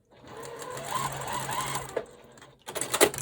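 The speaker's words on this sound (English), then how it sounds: "And then I'll sew a seam." A sewing machine stitches a seam on a small scrappy quilt block, a steady whirring hum for about two seconds, a brief pause, then a short, louder burst of stitching.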